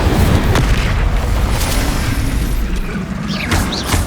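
Bombarda blasting-spell explosions in the video game Hogwarts Legacy, heavy rumbling booms with mechanical clatter and whooshing magical effects, loud and dense throughout with no speech.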